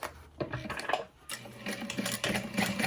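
A sewing machine runs in short bursts while topstitching the folded top edge of a slip pocket for a backpack lining, its motor whirring with brief pauses between runs.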